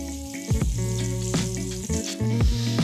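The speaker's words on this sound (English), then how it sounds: "flipping the roast away from you, so if any of the fat does splatter, it splatters away from you" A picanha roast sears in a hot pan with loud, close sizzling, and fat crackles and pops in several sharp bursts as the meat is turned.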